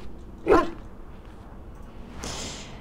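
A single dog bark from a companion in the fantasy role-playing game Dragon Age, heard briefly near the start over quiet game ambience, followed by a faint rustle.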